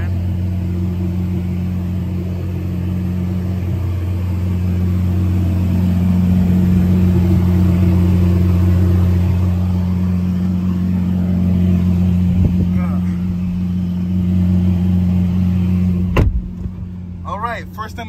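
A Lamborghini Aventador SVJ engine runs up close as a loud, steady low drone that swells slightly in the middle, with a brief click near the end.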